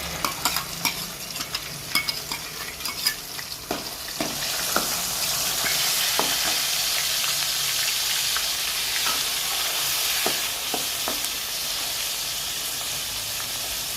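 Onion-garlic paste drops into hot oil seasoned with asafoetida, starting with scattered sharp crackles and spoon taps, then settling into a continuous close sizzling hiss, while making a potato-vegetable filling for Mysore dosa.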